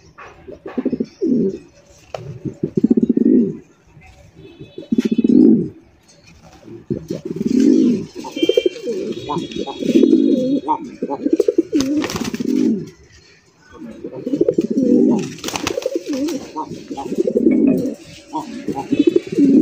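Pigeons coo at a high-quality pigeon collection, a low, throaty cooing that rises and falls in repeated rounds, close and fairly loud, with a few faint chirps and some talk mixed in.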